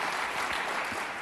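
A crowd at an opening day event gives the committee a dense, steady burst of applause, loud and continuous throughout.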